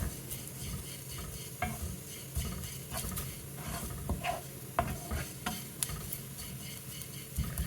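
A spoon stirs and scrapes a dry roasted spice mix for a roasted-coconut chicken curry in a hot pan with the flame off. The scrapes and rattles are close and irregular, continuing steadily with no talking.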